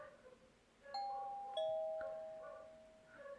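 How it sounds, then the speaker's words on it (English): A visual novel game's doorbell chimes once more with a clear two-note ding-dong, the tones ringing and slowly fading over soft background music. "Well, the bell rang a third time."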